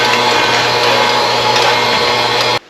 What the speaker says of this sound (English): So you can vacuum it up.